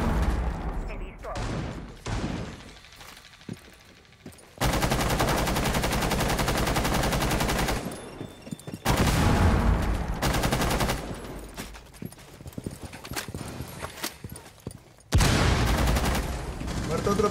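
Bursts of automatic gunfire from the Rainbow Six Siege video game, loud sustained rapid volleys separated by short quieter gaps with scattered single shots, while a player talks over them.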